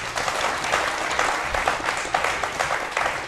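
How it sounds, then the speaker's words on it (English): A studio audience on a journalists' talk show claps in a dense, steady round of applause, with scattered louder claps standing out close by. "A round of applause."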